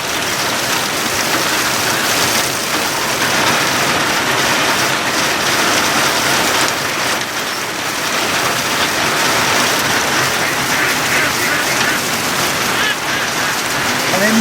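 Heavy rain falling hard outdoors by a barn where ducks stand in the downpour, a loud, unbroken roar of drops pelting surfaces for the whole stretch, with no voices.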